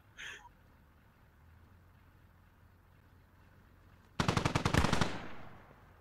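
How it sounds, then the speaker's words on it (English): Sustained automatic machine gun fire in the military shooter game Squad, a loud, rapid burst of shots lasting about a second after a long stretch of quiet battlefield ambience. "Shots coming in on this upper floor"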